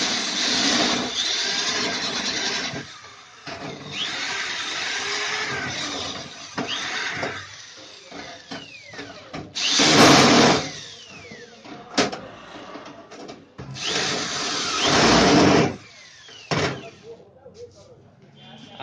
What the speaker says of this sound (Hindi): ये देखिए ड्रिल मशीन की मदद से